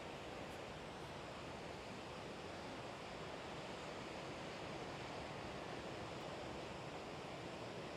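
Pacific Beach surf rolls in steadily, a dense continuous wash of ocean waves with no distinct breaks, moderately loud and unbroken by any voices.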